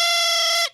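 A thrump warbler, a silly cartoon wind instrument, blows one sustained, bright buzzy tone that holds steady, then cuts off abruptly with a short fading tail.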